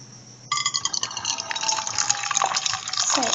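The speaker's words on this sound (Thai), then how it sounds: "กดน้ำ" Hot water dispensed from a machine into a container for a slime solution, a sudden close gushing pour after a short electronic tone, filling steadily with rising pitch as the vessel fills.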